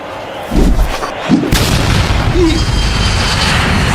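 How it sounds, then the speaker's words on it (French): A firecracker goes off in a video game: two sharp booms in quick succession, then a heavy blast followed by a dense rumbling roar that carries on to the end. "le pétard que je viens de mettre"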